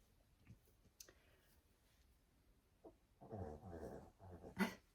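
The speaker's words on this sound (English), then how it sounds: "That's my cute little dog right there." A small dog growls, whimpers and huffs quietly at close range, with faint clicks early on and a burst of louder grumbling noises toward the end, no talk.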